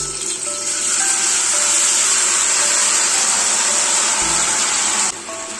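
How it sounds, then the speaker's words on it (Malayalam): Jackfruit seeds dropped into hot oil for a stir fry give a loud, steady broadband sizzle that holds for about five seconds, then eases off. "അതിലേക്ക് നമ്മൾ ഉപ്പിൽ വെട്ടി വെച്ചാൽ ചക്കക്കുരു കൊണ്ടിട്ട് കൊടുക്കാം"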